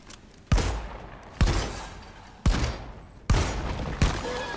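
Five heavy shotgun blasts boom in Deep Rock Galactic, each a sharp, loud report spaced about a second apart with a short decaying tail, and no talking over them.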